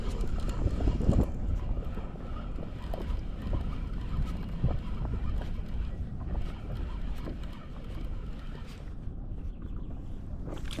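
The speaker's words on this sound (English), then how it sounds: "when you go fishing, and suddenly the wind picks up" Strong wind buffets the microphone on a fishing outing in Wellington, a constant low roaring rumble with gusty swells throughout and no speech.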